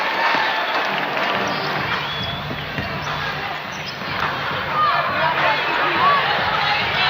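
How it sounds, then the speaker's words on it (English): Crowd inside Michelob Ultra Arena at a Dream at Aces WNBA game, a loud, continuous roar of cheering and shouting with whistles and sneaker squeaks cutting through, swelling near the end. "An expressive crowd we have here inside Michelob Ultra Arena"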